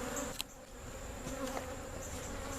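Honey bees swarm around an open beehive during a laying-worker hive correction, a dense steady buzzing hum that fills the air with no pauses and one brief louder snap near the start.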